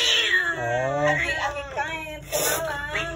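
A village cat meows in a long, drawn-out, whining wail, close and fairly loud, rising and falling over a few seconds, with a second shorter cry near the end.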